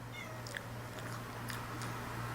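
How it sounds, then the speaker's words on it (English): A cat makes a few short, faint, high cries over a steady low hum, spaced irregularly across a couple of seconds. "the original poster actually attached an image of the cat to show us an example of what it sounded like"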